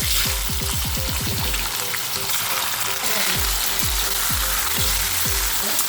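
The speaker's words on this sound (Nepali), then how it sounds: "मैले यहाँ कडाईमा तेल तताउन राखिसकेको छु, तेल तातिँदैछ। पहिला सुरुमा हामीलाई चिकन फ्राई गर्नुपर्छ।" Chicken frying in hot oil in a kadai gives a loud, steady sizzle, with repeated low knocks and scrapes from stirring throughout.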